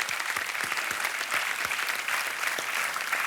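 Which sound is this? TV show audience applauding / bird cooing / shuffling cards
TV show audience applauding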